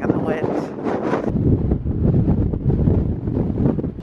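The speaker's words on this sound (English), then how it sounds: "So today is quite a little bit more windy" Strong gusting wind buffets the microphone on a black sand beach in Iceland, a loud, rough, continuous roar with a voice heard briefly at the start.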